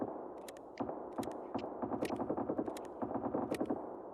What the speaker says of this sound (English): And that might be the heavy machine gun. Might be Kabad's machine gun.